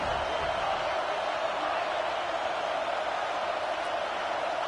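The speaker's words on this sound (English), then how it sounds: "how nice is it to have the home crowd going absolutely bananas?" A home crowd at a college football game roars steadily, a dense, continuous wall of cheering and noise that holds at the same level throughout.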